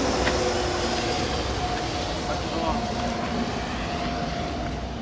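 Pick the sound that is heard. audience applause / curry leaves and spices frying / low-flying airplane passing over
low-flying airplane passing over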